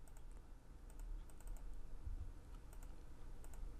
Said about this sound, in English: I'm going to shift click again to make yet another selection